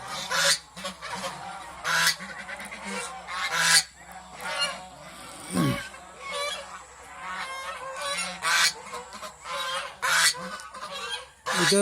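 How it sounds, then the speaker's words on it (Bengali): Domestic geese honk repeatedly in a darkened laying house, several birds calling close by in loud, overlapping bursts that continue throughout. "এখন সবগুলো হাঁস যেহেতু একসাথে ডিমে এসে গেছে"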